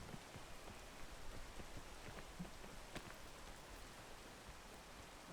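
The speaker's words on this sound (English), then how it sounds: "Why am I climbing in the rain?" Faint, steady rain in the climbing video game PEAK, a soft continuous hiss with scattered patter of drops throughout.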